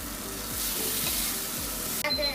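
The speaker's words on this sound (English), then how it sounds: "Now I'm gonna mix it a little." Tuna pasta with olives and mozzarella being stirred in a pan, a continuous close hiss of sizzling with regular scraping strokes of a utensil, ending in a sharper clatter.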